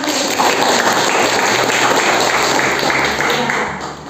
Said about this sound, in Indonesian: Coba tepuk tangan dulu